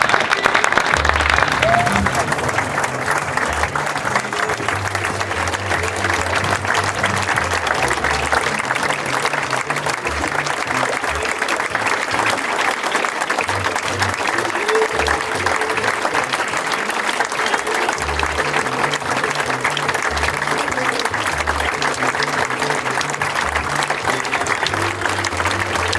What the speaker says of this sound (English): A big round of applause please for Derek Gumm